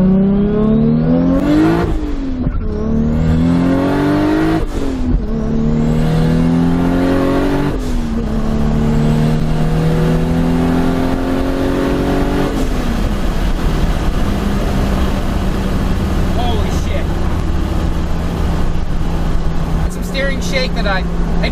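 A Toyota Supra on overboost accelerates hard through several gears, its loud engine note climbing steeply and then dropping at each shift, ending in a steady roar while cruising.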